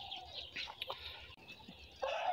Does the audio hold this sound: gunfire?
no